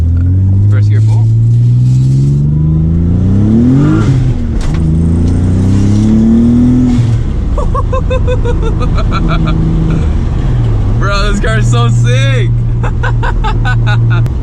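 Twin-turbo Nissan 300ZX with a full HKS Hi-Power exhaust at full throttle in first gear, a loud, deep engine roar climbing in pitch, dropping, then rising again, with talk over parts of it.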